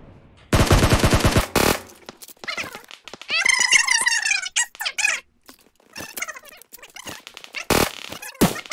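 Automatic gunfire in the mobile battle-royale game PUBG Mobile: loud rapid bursts, one long volley near the start and sharp shorter shots later, between stretches of game sounds.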